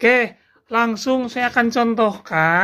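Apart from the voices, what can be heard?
No distinct noise like a dog, phone or traffic.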